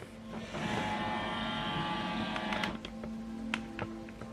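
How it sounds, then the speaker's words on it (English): An HP Envy Inspire 7220e all-in-one printer gets ready, with a steady mechanical whir and motor hum up close, then a few sharp clicks and clacks of moving parts as it settles. "right now this printer is getting ready"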